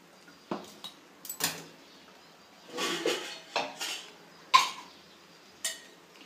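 A cooking pot is lifted off a stove on low flame, with several sharp metallic clinks and scrapes of metal cookware spread irregularly across a quiet background.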